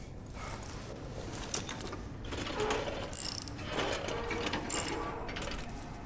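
A ratchet wrench cranks a bolt in the horror game Mask of Amnesia: The Bunker, giving a steady, fairly loud stream of mechanical clicking and whirring that runs the whole time with no talk over it.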